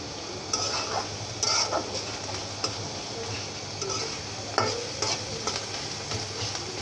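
Onions softening in hot oil in a pan for a dried lotia fish bhuna, sizzling steadily close by while a utensil stirs and scrapes in irregular bursts, with occasional light taps against the pan and no talking.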